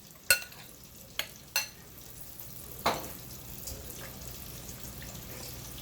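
Salmon deep frying in hot oil gives a steady low sizzle, broken by a few sharp clinks and scrapes from a utensil against the pan.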